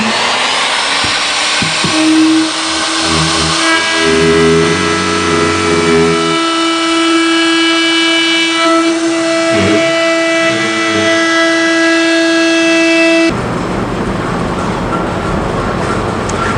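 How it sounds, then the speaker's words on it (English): A loud, steady high-pitched bench router whine with strong tonal harmonics drones continuously while cutting wood, shifting to a rougher roar near the end. "bench router."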